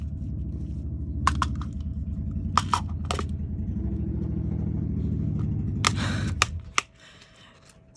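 A motorcycle passes outside, heard indoors as a steady low engine rumble that fades out after several seconds, while close, sharp ticks and clicks from nearby desk work break through above it.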